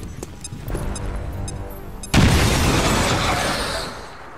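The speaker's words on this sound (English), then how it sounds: "Grenade!" A grenade goes off in the video game XCOM 2, a sudden loud broadband blast about halfway through that follows quieter game ambience and decays into a lingering rumble.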